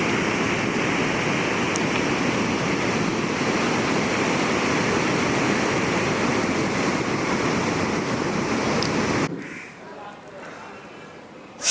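Ocean waves roll continuously onto Calangute Beach in Goa, a loud, dense wash of surf with wind buffeting the microphone, then dropping abruptly near the end to a quieter background.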